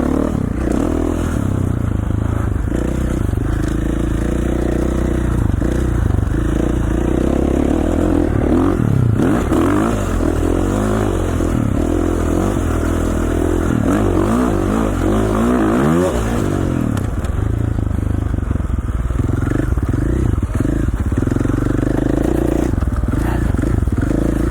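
A dirt bike with straightened handlebars and a replaced front wheel ridden over brutal rough terrain near Hagerman, Idaho, its engine loud and close throughout, revving and surging with rattling and scraping from the ground under it.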